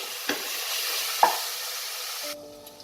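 Minced mutton keema frying in a pan, a soft steady sizzle punctuated by a couple of stirring knocks before the sound cuts off near the end.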